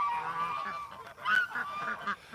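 Geese honk repeatedly at close range in a short burst of loud, overlapping calls that rise and fall, with one louder cluster near the middle and no talking.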